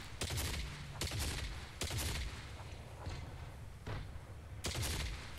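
Rapid bursts of gunfire from weapons in the Fortnite video game, several loud volleys spaced a second or so apart with broadband cracks and low thumps, close and dense.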